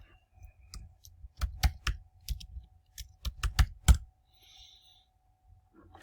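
Quiet close-up computer keyboard typing: a short run of distinct key clicks in an uneven rhythm, a few louder taps near the end, then a brief pause with faint room sound.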